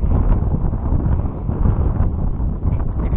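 Steady wind buffeting a microphone outdoors during a fishing trip, a continuous low rumbling roar that fills the whole clip with no speech.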